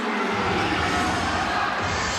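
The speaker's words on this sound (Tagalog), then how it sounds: "the crowd loves that three-pointer by Baguio there" A big basketball crowd roars for a three-pointer by Dante Baguio in an MPBL game between Valenzuela and Bataan, loud steady cheering filling the arena with a commentator speaking over it.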